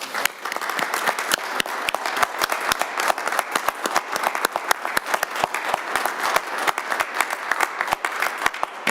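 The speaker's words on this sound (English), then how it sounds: "ask everyone just to do a quick round of applause for him" A quick round of applause from a meeting audience, dense steady clapping from many hands lasting throughout, fairly close and even in loudness.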